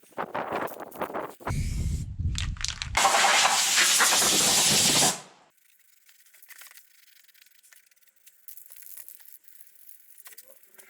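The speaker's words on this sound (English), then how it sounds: "now I can put some weld through primer on it." Aerosol can of weld-through primer sprayed onto drilled plug-weld holes in fabricated rust-repair metal on a Land Rover Discovery 1, a loud steady hiss of several seconds after brief handling noises, then quiet.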